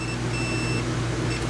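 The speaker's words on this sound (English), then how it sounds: "that beep tells me that this black wire is shorted to ground" Multimeter continuity beep while testing a black wire shorted to ground in a 2008 Forest River Georgetown RV's outlet wiring: a steady high-pitched tone sounding twice over a constant low hum, cutting out briefly in between.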